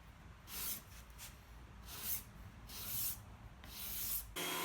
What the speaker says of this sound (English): I used a scraper to remove those raised lines that are left.